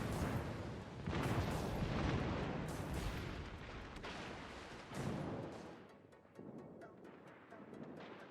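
Secondary guns on a World of Warships warship fire as heavy booming blasts, several loud bursts rolling one into the next and then thinning into scattered thuds against a windy sea background.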